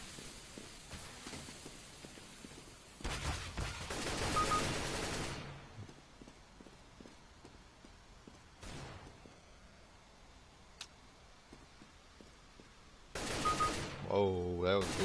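Gunfire in Counter-Strike: Global Offensive, with a few sharp bursts of shots spread across a quiet stretch of game audio, with a louder burst near the end.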